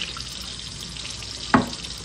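Water trickles into a small glass jar in a steady, light hiss, broken by one brief, sharper splash or clink partway through, heard close without talking.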